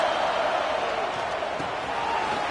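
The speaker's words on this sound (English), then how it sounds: "Listen to the crowd energy here in the early going." Stadium crowd noise in a Madden football video game, a steady, dense roar of cheering fans with play-by-play commentary talking over it.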